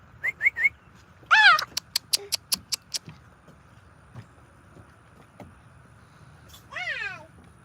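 A cat meows a few times, short rising-falling cries separated by pauses, with some thin chirps and clicks scattered in between in a quiet room.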